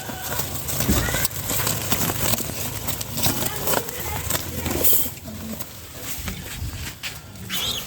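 Fancy pigeons kept in a cage give low, rolling coos amid shuffling and rustling, with someone talking intermittently nearby.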